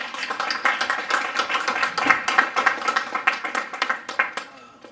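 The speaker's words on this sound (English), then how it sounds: "Let's give them a round of applause, please." A conference audience applauds with sharp, fairly close claps that build into a quick irregular patter and then fade out at the end.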